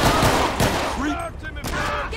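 Gunfire in GTA 5 with the LSPDFR police mod: a burst of loud shots opens the clip, followed by scattered fainter pops and game sounds amid a busy, noisy firefight.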